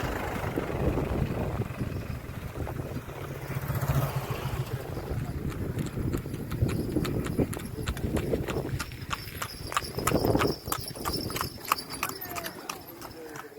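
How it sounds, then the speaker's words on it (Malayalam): A horse cart passes through a village in Kollengode, Palakkad, its hooves clip-clopping in a steady rhythm that grows clearer and nearer, with someone speaking and faint traffic behind. "ഇതാണ് കുതിര വണ്ടിയിലൊക്കെ വരുന്നത്"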